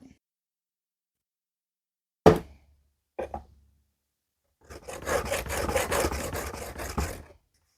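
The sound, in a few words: sharpening a Scandi knife blade on finer grit abrasive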